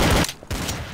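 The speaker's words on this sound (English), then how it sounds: "Someone's shooting at me." Gunfire in the video game Trouble in Terrorist Town: a loud, close burst of rapid shots, a brief lull, then a second sustained volley.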